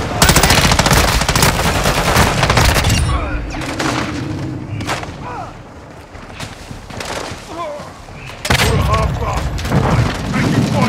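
Machine-gun and rifle fire in Call of Duty Warzone on Ashika Island: loud, rattling automatic bursts with booms, easing into scattered shots before a heavy burst returns, with voices heard in the mix.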